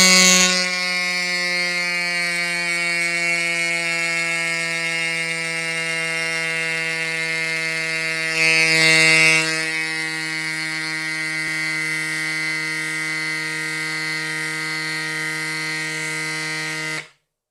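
A CYCPLUS AS2 Pro electric mini pump inflating a 29-inch bike tire to 25 PSI hums loudly and steadily at a fixed pitch with a buzzy motor whine, a brief airy burst midway, then cuts off abruptly.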